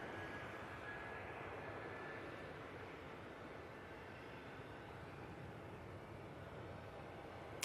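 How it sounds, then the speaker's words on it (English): An EasyJet airliner touches down on the runway at Manchester Airport, a steady, fairly faint broadband roar of jet engines and rolling that holds evenly throughout. "get that EasyJet touchdown"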